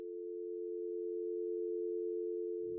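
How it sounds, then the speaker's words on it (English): Telephone line tone after a call disconnects, a steady pure electronic hum held alone at an even level, with a faint low rumble entering just before it ends. "the phone would disconnect for a final time"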